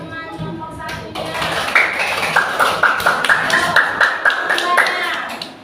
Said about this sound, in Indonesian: tepuk tangan buat teman nomor 1-nya